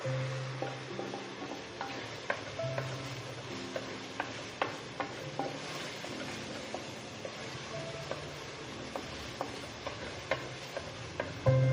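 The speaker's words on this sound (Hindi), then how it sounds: "इसको अच्छे से फ्राई करेंगे मसाले को।" Masala for beef karahi fries in a pan with a soft, steady sizzle, punctuated by regular light clicks and scrapes from stirring, close and fairly quiet, with no voices.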